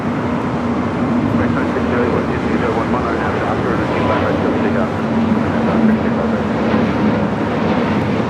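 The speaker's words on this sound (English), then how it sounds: "got that Eva Air Cargo 777 freighter going to be taken off 25 left" Eva Air Cargo Boeing 777 freighter taking off from runway 25 left at LAX, a steady, loud jet engine roar heard from a spotting position, with people talking over it.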